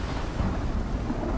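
Thunder rumbles through a thunderstorm in the survival game ICARUS, a dense, loud low roll layered with steady rain hiss for a short stretch, with no talking.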